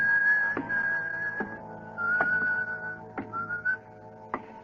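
Someone whistles a familiar tune clearly and close by, with bright sustained notes broken by short pauses and a few sharp accented onsets, heard alone with no talking.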